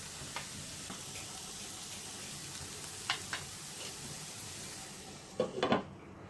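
Carrot and potato pieces fry in a pan with a steady close sizzle, broken by a few scraping stir strokes and a louder clatter of stirring near the end; no talking.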